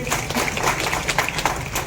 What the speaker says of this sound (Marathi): तुम्ही टाळ्या वाजवता